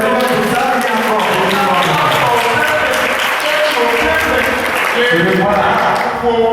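A church congregation applauds in a steady, dense roar of clapping, loud and continuous, with voices mixed in underneath.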